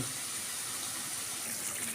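A pan of pabda fish curry boiling on a gas stove, giving off a steady, close bubbling hiss with no pause.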